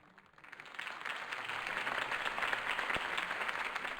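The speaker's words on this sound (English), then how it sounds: "could have heard that applause" Audience applause at a campaign speech swells from quiet to a dense, steady clapping that fills the space, heard from within the crowd with no talking over it.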